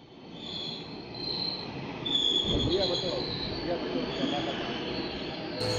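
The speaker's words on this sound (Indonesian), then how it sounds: "KRL kita sudah tiba. Tujuan Bogor." KRL commuter train bound for Bogor arriving at Tanah Abang station, a steady rumble of rolling cars with high, thin wheel squeals drifting on and off as it pulls in.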